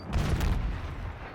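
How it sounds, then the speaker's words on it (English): Semtex grenade blast in the Black Ops 6 video game: a loud, close, booming burst of noise that rumbles on briefly amid other gunfire-like crackle. "Semtex incoming."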